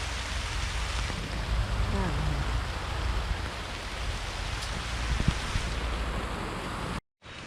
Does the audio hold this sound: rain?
yes